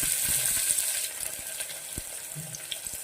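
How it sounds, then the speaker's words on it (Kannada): Sliced onions frying in masala for egg biryani, giving a steady soft sizzle with faint stirring clicks and scrapes in the pan, close and fairly quiet. "ಈರುಳ್ಳಿ ಬ್ರೌನ್ ಕಲರ್ ಬರುವವರೆಗೆ ನಾವು ಹುರ್ಕೋಬೇಕಾಗ್ತದೆ."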